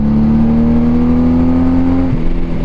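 A Honda GL1500 Goldwing motorcycle engine drones steadily at cruising speed, loud and close, a smooth sustained tone with a slight drop in pitch near the end.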